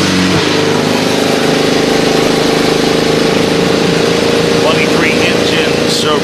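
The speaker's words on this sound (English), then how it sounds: "Drivers, start your engines." Many IndyCar race car engines fire up together at the 2018 Detroit Grand Prix, building into a loud, sustained roar and revving over crowd noise.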